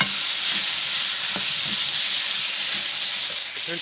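Loud, steady sizzling of onions frying in a hot pan for a fish curry, with a few scraping stirs and no talking.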